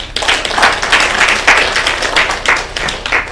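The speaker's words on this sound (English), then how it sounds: "let's clap for them" Audience applause at a Kenyan digital health and data conference, dense and sustained clapping filling the room with loud swells, no speech over it.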